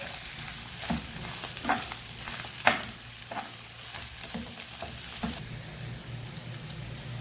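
Boiled chicken and capsicum frying in a pan, a steady sizzle broken by repeated scrapes and clacks of a spoon stirring, close up and without talk.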